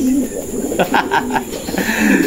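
A black pigeon or dove cooing nearby, a few soft, low, rhythmic coos in a short sequence against quiet background noise.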